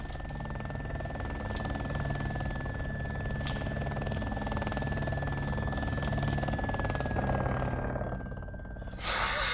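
A helicopter in ARMA 2: Operation Arrowhead drones with a continuous rotor and engine roar, loud and steady throughout, its pitch shifting slightly near the end, with faint talking in the background.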